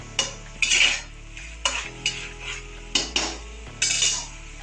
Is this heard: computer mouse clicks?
no